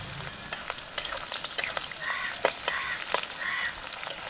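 Green chillies and onion fry in hot oil with cinnamon, green cardamom, clove and dried red chillies for a jackfruit curry. A steady sizzle runs throughout, broken by sharp scraping stirs at irregular intervals, with no talk.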